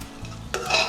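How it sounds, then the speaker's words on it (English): Thai red curry paste with duck frying and stirred in a pan, a soft sizzle with scraping stirs that grows louder and brighter midway, close and without talk. "we'll keep stirring it so it doesn't burn"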